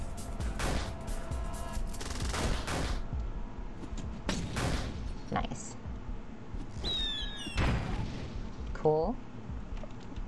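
Video game gunfire rings out in several bursts of loud booming shots, with electronic effect chirps and zips between them, while a player talks over the action.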